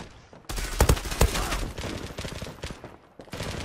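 FAMAS rifle gunfire in the Zula shooter game, a sudden burst of sharp close shots followed by rapid crackling fire and scattered impacts, loud and dense for a few seconds.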